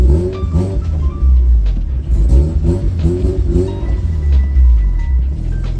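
A Subaru BRZ swapped with an RX-7 13B rotary engine idles close by, a steady, loud, low rumble with a slight uneven pulse throughout.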